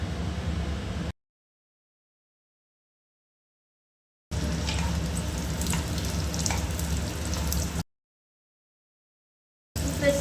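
Onions go into hot reused frying oil in a kadai and sizzle steadily, a loud hissing crackle in separate stretches broken by silent gaps.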